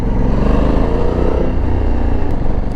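Honda Africa Twin 1100cc twin-cylinder engine with stock exhaust, a loud, steady, throbbing rumble heard close up while riding, with no talk.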